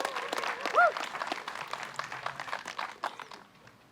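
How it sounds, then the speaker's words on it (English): Spectators at the 2024 Des Moines Challenge MPO disc golf final applaud player Evan Smith, a moderate scattered clapping from a nearby gallery with crowd voices mixed in, tapering toward the end. "Please give a round of applause for Evan Smith"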